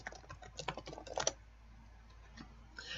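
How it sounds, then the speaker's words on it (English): Fingers type a short phrase on a computer keyboard, a quick close cluster of soft key clicks that fades into quiet room tone. "I'm going to type listing presentation."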